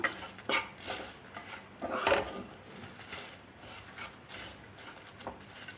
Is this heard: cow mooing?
no